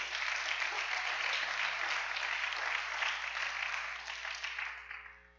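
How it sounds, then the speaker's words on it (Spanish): Sustained applause from a church congregation, a dense even wash of clapping that holds steady before thinning and fading out near the end. "Dile un aplauso al Rey."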